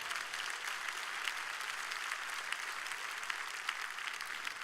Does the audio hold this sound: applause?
yes